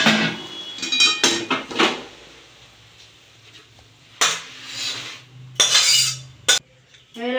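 A lid lifted off a pot of boiled cabbage in a kitchen, heard as several loud metallic clanks and rattles in separate bursts with quiet gaps between.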